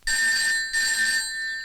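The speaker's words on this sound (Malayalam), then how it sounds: "ഫോൺ അടിക്കുന്നു, അതെടുക്കൂ സാർ." A telephone rings with a bright, sustained electronic tone in two long bursts, close and clear, in an office scene from a Malayalam drama film, no voices over it.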